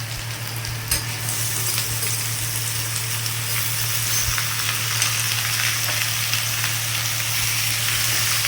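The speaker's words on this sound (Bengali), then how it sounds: "এবার এগুলোকে আমি ভালো করে ভেজে নেব" Elephant-foot yam stalks frying in oil in a pan after onions have browned, a steady loud sizzle with occasional stirring clatters and a low hum running underneath throughout.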